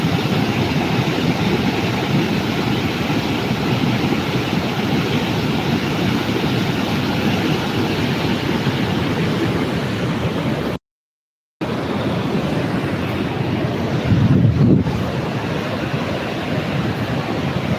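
A flooded river rushes past in a loud, steady, broadband roar of churning water, close and unbroken apart from one brief cut-out, with no voices.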